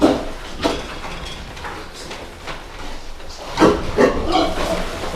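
Young pigs about five and a half months old grunt and snuffle in short, irregular bursts at close range on a farm, with no talk over them.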